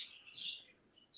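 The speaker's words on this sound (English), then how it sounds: "Sorry if you can hear birds" Pet birds kept indoors at a home, chirping in short, faint high tweets, a couple of calls in a quiet room with nobody talking.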